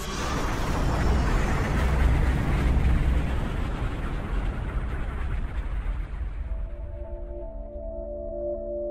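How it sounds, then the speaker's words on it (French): A titanic cosmic explosion rendered as a loud, sustained rumbling roar with broad deep energy and crackling texture, holding steady for most of the time before thinning into a low droning tonal hum near the end. "Ça a été l'explosion la plus puissante qu'on ait jamais vue."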